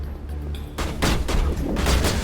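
Video game gunfire crackles in a dense, overlapping burst of shots aimed at the player, loud and continuous after a brief quieter lead-in.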